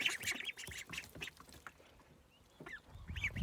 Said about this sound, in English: Watch the ducks.